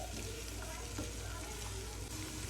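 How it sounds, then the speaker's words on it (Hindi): Tomato puree frying in a pot for one-pot chicken rice, a steady close sizzle that holds evenly throughout with faint stirring. "इसे भी हम अच्छे से भूनेंगे"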